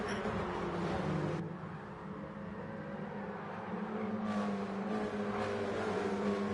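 X-Bow race cars in Gran Turismo Sport on the Suzuka East Course roar steadily, a dense engine drone with pitch shifts as a pack of cars accelerates away at the start, loud and continuous with no talk.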